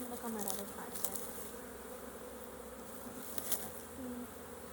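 Honeybees hum busily around an open hive during an inspection, a faint, continuous buzz with occasional nearer bees passing and soft clicks.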